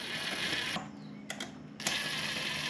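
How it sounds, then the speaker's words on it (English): A ratchet wrench tightens the stator bolts on a 150cc GY6 scooter engine: brief clicking ratchet strokes up close over a steady background hiss, with no talking. "Go ahead and tighten the stator down."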